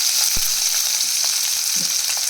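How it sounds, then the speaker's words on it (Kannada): Green chillies and onion frying with garlic in a hot pan for a Kannada halasande palya: steady, loud, close sizzle with a few faint stirring knocks, no voices. "ಈಗ ಹಸಿಮೆಣಸಿನ್ಕಾಯಿನೂ ಮತ್ತು ಈರುಳ್ಳಿನೂ ಜೊತೆಗೆ ಹಾಕ್ಕೊಂಡ್ಬಿಡ್ತೀನಿ"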